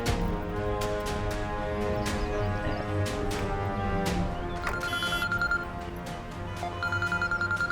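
A telephone rings in a domestic setting, repeated electronic ringing bursts loud and steady, sitting over a thick bed of background music with no speech.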